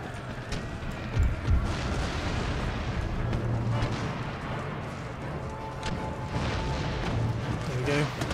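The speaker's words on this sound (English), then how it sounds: "keep rattling it with cannons shot." Cannon volleys in the strategy game Empire: Total War pound a fortification wall during a siege against Indian troops, with a pair of heavy booms early on over a continuous rumbling din of battle.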